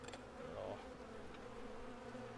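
Honeybees at an apiary give a soft, steady buzz, faint and continuous, with a brief louder pass near the start and no voices.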